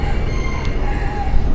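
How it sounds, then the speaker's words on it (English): Chickens in a Miami parking lot, with a rooster's crow and clucking over a constant, fairly loud outdoor background hum. "Why are there so many chickens running around and also quite a few little birds?"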